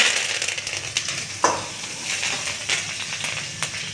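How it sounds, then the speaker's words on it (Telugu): Red chillies, cumin seeds and curry leaves frying in hot oil give a close, steady sizzle and crackle, with occasional sharper pops and stirring scrapes. "రెడ్ చిల్లీ వేసుకొని కొద్దిగా లైట్గా ఫ్రై చేసుకొని జీలకర్ర కొద్దిగా వేసుకొని కరివేపాకు"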